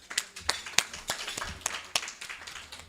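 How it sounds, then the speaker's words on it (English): Scattered hand claps from a small group, a dozen or so sharp slaps spread unevenly over a few seconds, fairly faint and slightly distant. "give him a round of applause"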